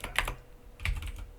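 Computer keyboard keys tapped close up in two short clusters of crisp clicks over a low background hum.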